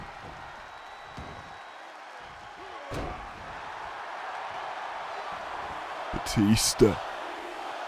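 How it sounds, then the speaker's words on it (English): A wrestling crowd cheers and rallies behind a wrestler during a match, a broad roar building under a commentator's talk, with a few ring slams near the end. "with the crowd rallying behind him, gotten certainly a lot louder than what it was for Goldberg's entrance."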